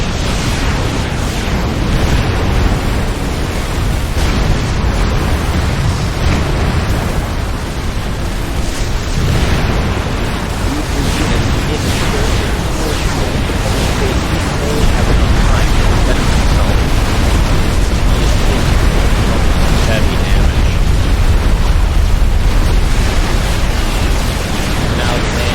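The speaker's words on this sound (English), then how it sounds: "Sanctuary is taking some shots from mobile artillery" Mobile artillery shells pound a base in a strategy video game, a dense, continuous roar of overlapping blasts and rumble that stays loud throughout, with no clear gaps between impacts.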